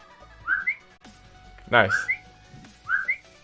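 A short two-note whistle sound effect for a game-jam project, repeated three times at moderate level, with a brief word spoken between the calls.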